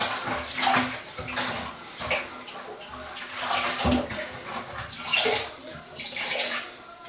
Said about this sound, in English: Wash that off again.